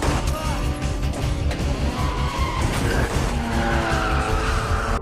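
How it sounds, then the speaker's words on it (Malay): Tires screech in a long skid over a roaring car engine during a movie drift race chase, loud and close, with squealing tones rising and falling throughout. "Han berjaya merempuh Takashi untuk membuatnya terbabas."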